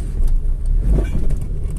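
A Chevy car rolls by on a street with speed bumps, a close, loud low engine rumble and road noise swelling and easing as it passes, heard without talking.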